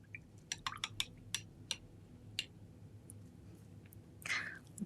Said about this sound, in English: Rinsing that brush out.